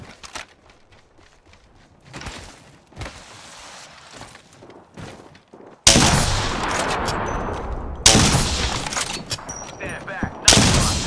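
Gunfire in the video game Apex Legends: quiet footsteps and small clicks, then loud, sudden bursts of rapid gunshots that fill the second half, near and harsh.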